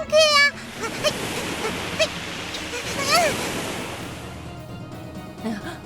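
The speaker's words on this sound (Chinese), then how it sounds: "伫梦中伊看到有船伫大风雨内底，看起来真危险" Stormy sea surf and gusting wind roll around a boat in heavy rain, a steady broadband wash with a sharp splash at the start and swelling surges, while voices speak over it.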